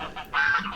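Geese honk close by in a garden with a compost heap, several short nasal calls in a quick cluster, one longer honk standing out, with no talk over them.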